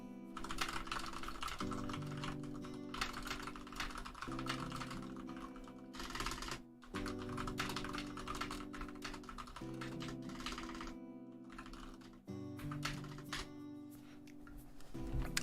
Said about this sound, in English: I need to go type something real quick.